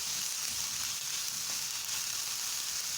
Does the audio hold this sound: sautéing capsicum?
yes